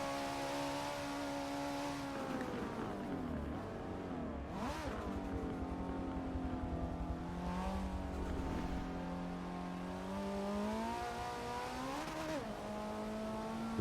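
Race cars in Forza accelerating around Road Atlanta, engines droning and rising in pitch through gear changes, several cars close together with steady loud engine tone throughout.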